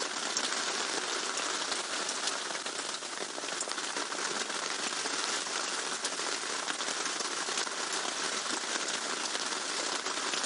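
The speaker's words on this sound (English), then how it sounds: "Well, just listen to that rain, everybody. What a wonderful sound." Steady rain pattering on surfaces during a safari game drive, a dense continuous hiss of drops that stays even throughout, with no talking.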